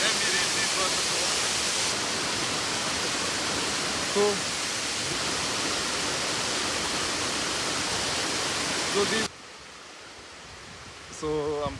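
Waterfall on the Thiba River in Kirinyaga, a steady broadband roar of falling water close by for about nine seconds before cutting to a much quieter scene with faint voices at the end.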